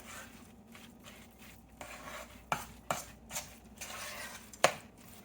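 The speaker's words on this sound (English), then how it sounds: "We're going to put them in there. Just stir them up in there." Cooled vegetables being stirred into a blue crab cake mixture in a bowl, giving soft scraping and rubbing with a few sharp clinks of the utensil against the bowl, close and fairly quiet, with no talking.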